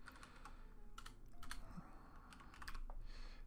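Light, quick clicking of keys on a computer keyboard as a folder name is typed in Windows File Explorer, a soft run of irregular keystrokes heard close with no talking.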